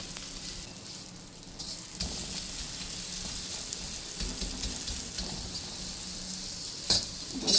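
Edible gum and urad dal fry in ghee for winter laddoos, giving a continuous, close sizzle with soft stirring scrapes throughout and a brief clatter near the end.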